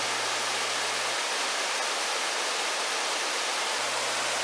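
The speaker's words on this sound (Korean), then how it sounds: "시원하게 흘러내리는 등룡폭포 하단의 물줄기입니다." Lower tier of Deungryong Falls, a two-tier waterfall on Myeongseongsan in Pocheon, roars in a dense, steady broadband rush of falling water, loud and unbroken throughout, with a faint low hum at the start and end.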